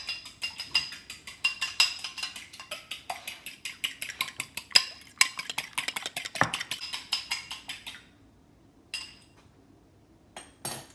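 Egg beaten with a fork in a bowl for egg wash, a fast steady run of light clinking taps against the bowl for about eight seconds, then a few isolated clinks, close and alone.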